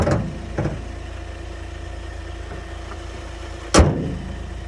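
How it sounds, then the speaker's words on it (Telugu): Hyundai Venue 2019 with about 1.15 lakh km, its engine running at a steady idle after a carbon-cleaning treatment. The hum is constant and fairly close, with a couple of brief louder knocks or door-like thumps. "సార్ ఇంజిన్ ఎలా ఉంది చూడండి, కంప్లీట్ నాయిస్ తగ్గింది"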